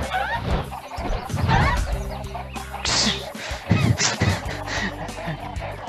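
Chicken clucking in a Street Fighter game mod: loud, busy squawks and clucks overlapping with other game sounds and a voice, dense and continuous throughout.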